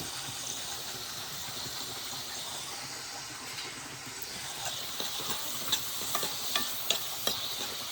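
Spices such as mustard seed and cumin fry in hot oil for a Kolhapuri-style crab curry, giving a steady sizzle with scraping stirring strokes that grow more distinct toward the end.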